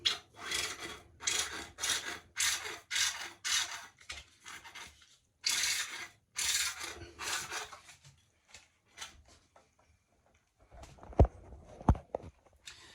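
Hair growth activator from a Copenhagen Grooming hair growth kit is rubbed into the scalp by hand, making close, rhythmic rasping strokes in steady bursts that fade into lighter, scattered rubbing with a few sharp taps near the end.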